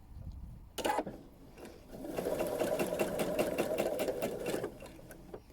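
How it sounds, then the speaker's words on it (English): Domestic sewing machine stitching an appliqué blackbird in a straight line, a brief burst of stitching, then a steady, close, rapid mechanical whirr for about three seconds before stopping. "So sew in a straight line"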